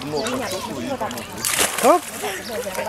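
Someone jumps into an outdoor swimming pool at a summer picnic, making a brief sloshing splash amid excited voices and chatter nearby.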